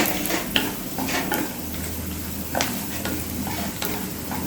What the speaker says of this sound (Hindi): इनको हमें भूनना है हल्का गुलाबी होने तक। भून के 2 मिनट में तैयार हो जाते हैं।